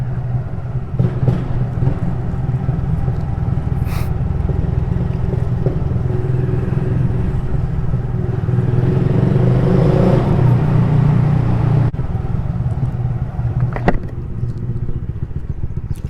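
A motorcycle riding up out of an underground tunnel, its engine loud and droning with echoing rumble and clatter, swelling mid-way as it climbs, heard continuously from the rider's position.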